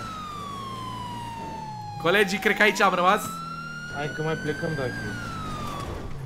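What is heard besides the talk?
police car siren in video game FiveM (GTA V)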